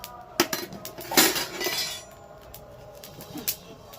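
A spoon clinks and scrapes in a pan as chicken with dried fenugreek leaves is stirred, a few sharp metallic knocks and a brief rustling scrape, close and moderately loud, with no speech.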